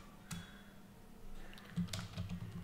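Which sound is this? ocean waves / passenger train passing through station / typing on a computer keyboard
typing on a computer keyboard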